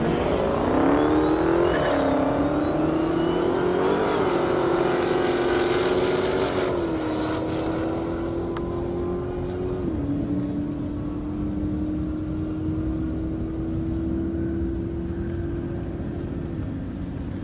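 Two drag cars, an Audi S4 making 420 horsepower and a 900-horsepower Dodge Challenger, race down an airport runway, one engine's loud steady drone rising through the gears and holding high as the car pulls away, without any talk.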